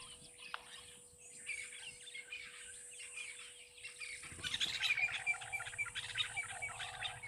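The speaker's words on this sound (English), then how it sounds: "those are meaves or long-tailed starlings" Meves, or long-tailed starlings, calling at an African waterhole: faint, distant chirps and whistles over a quiet hum, with a louder burst of calls partway through.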